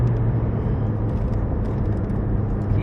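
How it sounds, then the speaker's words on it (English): A racing car brakes hard and drops down through the gears in a chicane, its engine a steady, loud, close low roar inside the car that holds from start to finish. "And then back through the chicane, braking, changing down."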